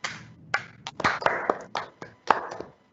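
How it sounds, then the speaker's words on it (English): Scattered, uneven hand claps from a small audience at a university research forum's appreciation ceremony, a few sharp claps bunched together then trailing off, fairly close and with no voices over them. "So a round of applause for everybody."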